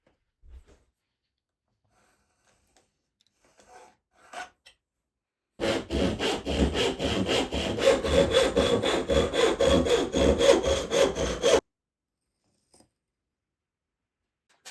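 A triangle piece of cherry wood is sawn by hand in a steady burst of close, rhythmic rasping strokes lasting several seconds, with quiet before and after.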